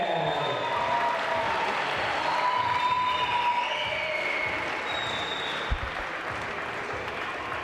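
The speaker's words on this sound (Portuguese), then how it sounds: "esses aplausos aí que você ouviu, é porque o próximo vai ser um atleta da casa" Steady crowd applause fills an arena at a gymnastics World Cup in Maribor, a broad continuous wash of clapping heard at a moderate distance with no voices over it.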